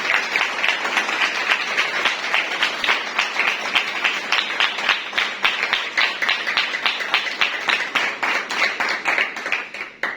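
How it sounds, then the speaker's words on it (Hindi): A church congregation giving loud, sustained applause during an Easter sermon, dense clapping holding steady throughout, with no speech. "जोरदार तालियां खुदा के लिए।"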